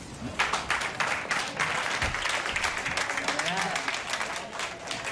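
A small group of police officers claps and applauds in an office, a dense patter of hand claps that starts abruptly, holds steady, then thins slightly toward the end.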